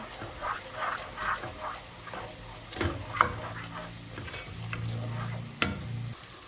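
Spice paste with chili and coriander powder fries in a pan for a Bangladeshi chapila fish bhuna, with close sizzling under repeated scraping and clinking stirs of a utensil against the pan.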